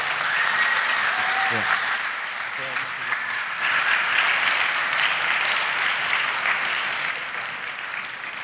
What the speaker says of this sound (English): can I get one more round of applause for both Thomas and Jeroen?